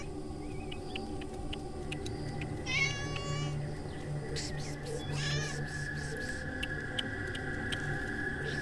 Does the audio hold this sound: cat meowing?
yes